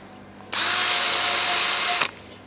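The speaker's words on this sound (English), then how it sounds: "Need a drill with a longer thingy on it." A power drill spins up abruptly, whines at a steady high pitch for about a second and a half, then cuts off, loud and close in a workshop repairing a Lamborghini V12.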